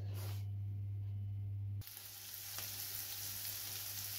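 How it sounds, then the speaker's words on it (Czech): Onion frying in hot lard in a pan, with a steady close sizzle that rises into a louder, broad hiss partway through and keeps crackling without any talking. "Prvně si dám na sádlo restovat cibuli."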